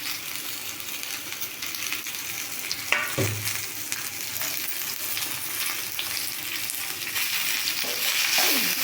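Coconut and coriander get stirred into raw mango rice frying in a pan, giving a steady close sizzle with a spoon scraping and clinking against the pan throughout.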